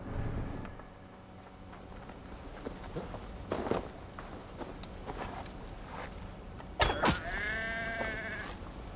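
In Assassin's Creed Valhalla, a sheep bleats loudly near the end, a wavering, drawn-out cry, after several seconds of footsteps and small rustling sounds.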